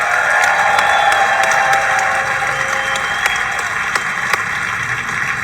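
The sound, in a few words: audience applause at conference in South Africa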